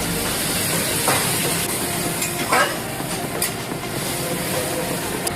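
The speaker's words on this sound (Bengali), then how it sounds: "এরপর এটাকে নেড়ে দিলাম" Mustard and poppy seed paste being stirred in a hot pan, a loud, steady sizzle with scraping stir strokes and faint hiss, close up and continuous.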